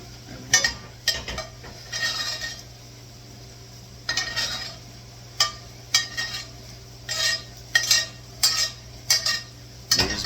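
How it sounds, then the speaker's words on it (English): Spoon repeatedly scraping and clinking against a tilted pan while chicken is basted in hot fat, short metallic bursts in an irregular rhythm over a steady low hum, close and fairly loud. "You're just basting it. It's like basting a turkey."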